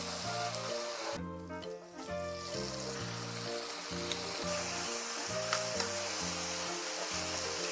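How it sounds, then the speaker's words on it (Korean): Seasoned, marinated food grills in a pan for a holiday meal, giving a steady, close sizzle that runs throughout with a brief dip near the start, while faint music plays underneath. "자글자글 소리에 명절 분위기 이 정도 자글자글 해야 됩니다"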